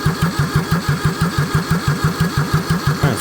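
Kubota D640 diesel engine fitted with a D722 head, cranking hard and trying to catch, a steady fast rhythmic chugging from the starter that continues throughout, loud and close, with no voices.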